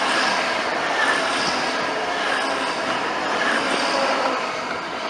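A train passing at a railway station, a steady loud roar and rumble of wheels and engine sustained throughout with no pauses.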